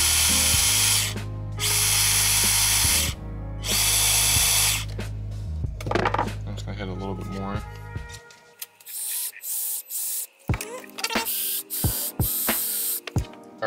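An Axial SCX24 Jeep RC crawler, its tires coated with WD-40, runs indoors: loud, close bursts of whining motor and spinning wheels for about eight seconds, followed by quieter clicks and rattles.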